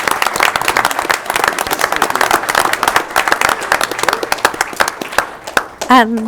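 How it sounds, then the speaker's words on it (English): A school board meeting audience gives a round of applause for an honored teacher. The clapping is dense and lively, then fades out just before a voice begins speaking. "Would you give her a nice round of applause?"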